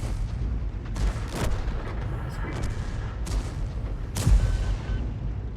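M53/M55 self-propelled artillery fires shells in a tank video game, with two deep, heavy booms a few seconds apart over a steady low rumble of battle ambience.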